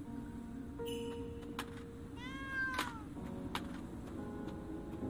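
A video game cat gives a couple of short, clear meows, close and distinct over a quiet game background, with no one talking.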